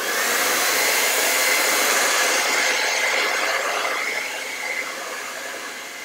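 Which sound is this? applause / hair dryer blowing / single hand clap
hair dryer blowing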